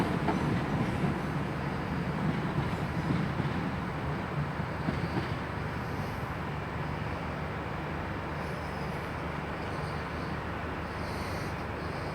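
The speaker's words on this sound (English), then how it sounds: "departing out now is 166 217 for Frome." Class 166 diesel unit 166 217 pulling out of Bristol Temple Meads station bound for Frome, a steady loud rumble of engine and wheels that holds throughout without easing.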